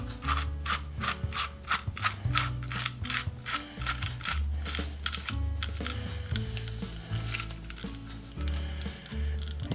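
A Miller Falls 120B breast drill chuck is screwed back together by hand, giving a steady run of soft metallic ratcheting, grinding and rubbing clicks close up, with no talking.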